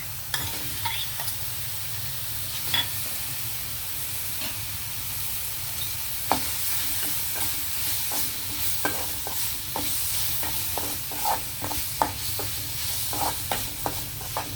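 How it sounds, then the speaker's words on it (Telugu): Chicken fries in a pan for chicken parota, giving a constant close sizzle broken by repeated scraping and clinking as it is stirred, with no voices. "చికెన్ కొద్దిగా ఏగనిద్దామండి కొంచెం వేగిన తర్వాత మిగతా ఇంగ్రీడియంట్స్ మనం యాడ్ చేద్దాం"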